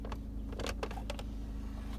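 Short mechanical clicks and soft thuds from a BMW F10 520d cup holder being pushed open inside the car, several brief snaps over a low steady cabin hum.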